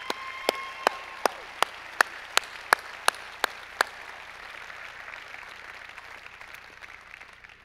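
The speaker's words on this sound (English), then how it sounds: "Round of applause, please." An audience at San Bernardino County's State of the County event gives a round of applause, a run of evenly spaced sharp claps that fade into a softer wash of clapping.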